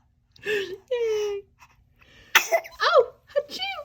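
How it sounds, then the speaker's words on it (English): A baby's small sneezes and coughs mixed with brief whimpers and vocal sounds, close and intermittent, with short pauses between bursts. "Oh, achoo."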